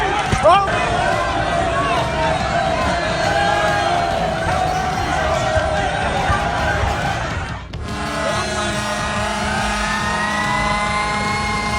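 A crowd of protesters clashes with police and seizes a fire truck, their loud, dense shouting blending with engine noise and street commotion, with voices calling out throughout.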